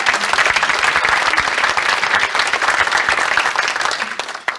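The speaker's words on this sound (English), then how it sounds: "Let's give them all a round of applause." Audience at a Business Council of Westchester breakfast applauding: a dense, steady clapping that holds loud for several seconds and then thins slightly toward the end.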